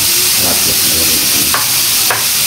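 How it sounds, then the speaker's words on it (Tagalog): Tomatoes being crushed in a hot pan, a loud continuous frying sizzle with soft squelching and two brief scraping knocks of a utensil against the pan, no voices. "Kailangan na natin durugin yung kamatis sa init"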